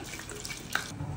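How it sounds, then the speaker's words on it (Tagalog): A short burst of water running and splashing into a cooking pot, close up, with a brief drip-like plink partway through. "Lagyan na natin siya ng tubig"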